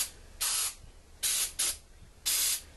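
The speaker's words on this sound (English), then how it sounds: "let's go ahead and spray it really, really good" An aerosol cleaner sprays onto a car's mass air flow sensor in four short hissing bursts, close and loud, with quiet pauses between them.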